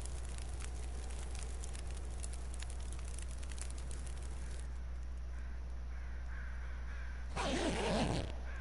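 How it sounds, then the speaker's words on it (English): Crows caw in the wintry wilderness of The Long Dark over a steady crackling ambience, a faint distant cry or two followed by a louder, nearer burst of noise near the end. "Crows are out."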